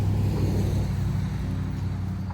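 A car rumbles past on a nearby road beside a home garden with apple trees and elderberries, a steady low engine and tire drone fading slightly as it goes, with no talk over it.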